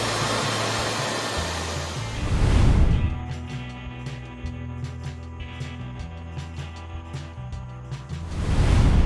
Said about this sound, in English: The belt sander is great for getting the pieces shaped exactly like it was traced on from the template.